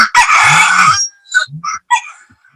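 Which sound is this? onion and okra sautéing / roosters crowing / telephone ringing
roosters crowing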